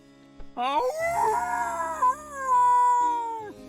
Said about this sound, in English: This blood-curdling howl is amazing.